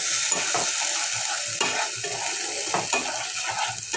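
A spice paste for a lentil and egg dish is sautéed in a pan: a close, steady sizzle with repeated scraping stir strokes and light utensil knocks, no voices.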